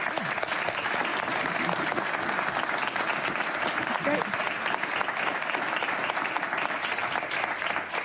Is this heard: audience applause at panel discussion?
yes